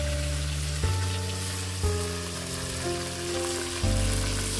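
Small hilsa fish frying in oil seasoned with bay leaf, salt and turmeric, a dense, steady crackling sizzle with faint humming tones and occasional soft bumps of the pan.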